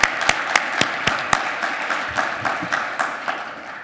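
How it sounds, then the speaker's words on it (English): Seated attendees at a city's State of the City event applaud the sponsors, with a few loud, rhythmic individual claps up front over a softer crowd patter that tapers off quickly. "let's recognize all of our sponsors today with a round of applause"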